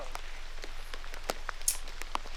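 Rain falls on an outdoor disc golf course during a tournament round, a steady light patter with scattered sharper drops ticking close by, continuous and unbroken.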